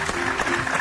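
An audience applauds steadily for a performer who has just danced, a brief wash of close, continuous clapping.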